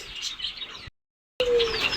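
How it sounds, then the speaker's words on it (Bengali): A cockatiel chirps in short bright calls, cut by a brief moment of silence before the chirping resumes. "এই হচ্ছে আমার কোকাটেল পাখিটা"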